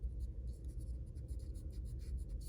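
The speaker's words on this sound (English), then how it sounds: "I will erase this line" Pencil lines being erased from paper while redrawing a flower drawing, a steady soft rubbing scratch with rapid back-and-forth strokes, close and continuous, with no talking.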